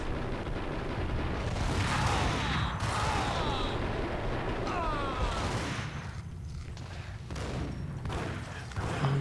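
Gunfire in the Max Payne video game, with shots fired down through a floor, comes as a dense, steady stream of bursts and impacts mixed with game effects, under some faint speech.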